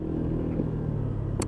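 A Honda PCX scooter engine running after repair, having been run without oil or coolant: a steady, close, low idling rumble with a constant droning hum throughout and a brief clack near the end, with no talk.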